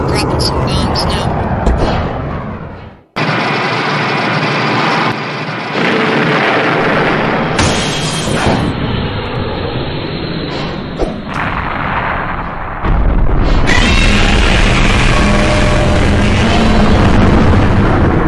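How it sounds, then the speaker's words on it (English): Bombs dropping and exploding in a Godzilla movie battle scene, a loud, continuous barrage of booming blasts and roaring rumble with abrupt cuts between bursts. "We're dropping some bombs now."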